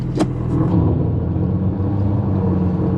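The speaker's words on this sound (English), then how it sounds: "he's got a straight piped exhaust, so it'll take a little while for it to die down" A BMW 340i with a straight-piped exhaust pulls away, its loud, steady low rumble droning close by and holding without fading.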